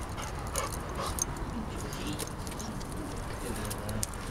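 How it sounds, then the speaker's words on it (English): Springer Spaniel puppies whimper and coo in a steady, noisy indoor scene, with faint bird-like squeaks scattered throughout and a constant background hum. "Puppies! Puppies!"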